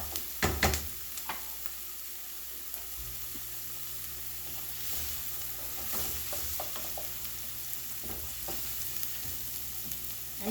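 Leeks fry for a mushroom risotto, sizzling softly in a pan with a steady low crackle, while occasional sharp stirring clicks and scrapes break in, clustered near the start and scattered later.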